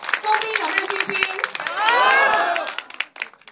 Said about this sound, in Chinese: 我们再一次用掌声来擦亮枫冰乡